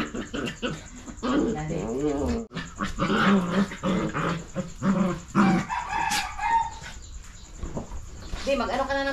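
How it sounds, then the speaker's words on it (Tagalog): Several dogs bark and growl in bursts close by, mixed with a rooster crowing and hens clucking in a rural Philippine home setting, while people talk over the commotion. "Ay, yung mga aso."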